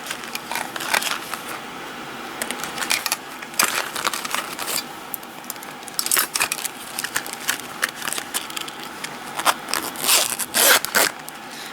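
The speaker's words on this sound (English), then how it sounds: "I like that it has this cool zipper pouch." Zipper of a clear vinyl jewelry supply pouch being opened and fiddled with: repeated short, close zip rasps and crinkly plastic rustles in bursts, with no talking.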